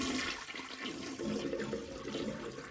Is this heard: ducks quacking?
no